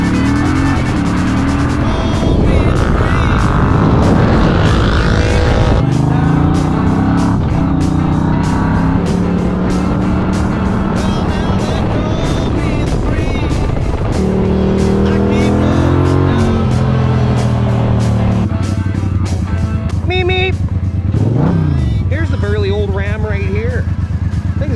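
An old van's engine being started and run, a loud rough motor cranking and revving unevenly through the whole stretch, with voices talking over it now and then.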